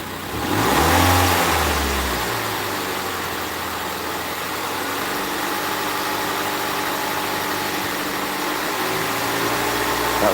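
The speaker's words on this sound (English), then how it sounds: "I'm just going to increase the RPM." A Mazda MX5 engine with a P2097 fault code, its revs rising from idle to a steady higher hum that holds, close and continuous with no voices.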